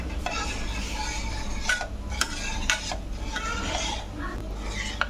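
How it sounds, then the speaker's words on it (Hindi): A spoon steadily stirs tender coconut pudding mixture in a pan, with soft scraping swishes and occasional sharp metallic clinks against the pan, close and continuous. "कंटिन्यूसली इसे स्टर करना है, छोड़ना नहीं है।"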